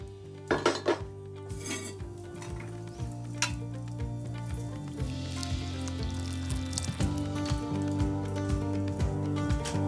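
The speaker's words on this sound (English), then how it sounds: "Leave to simmer for 20 minutes or until the pearl barley is tender, and top with extra stock if it dries up" Pearl barley risotto simmering in stock, with soft sizzling and bubbling under clinks of a metal spoon and pot, several sharp clatters early on, then steady stirring at close range.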